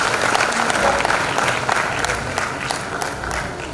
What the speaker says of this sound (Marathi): आपण टाळ्या वाजवून पाहुण्यांचं स्वागत करूया.